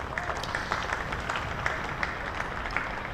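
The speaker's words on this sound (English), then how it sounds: "That's applauded by this Hampshire crowd" A Hampshire crowd at a county championship cricket match applauds a diving stop at mid wicket, a steady spread of clapping at a moderate level across the clip, with no voices over it.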